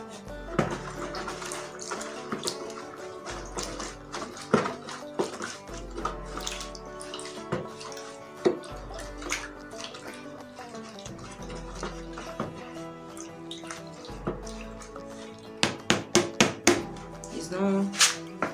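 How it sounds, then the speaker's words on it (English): Caustic soda is stirred into half a liter of water in a container, giving repeated sloshing and swirling with scattered clinks and taps, fairly close and moderately loud throughout. "My caustic soda in half liter of water. I'm going to be stirring it."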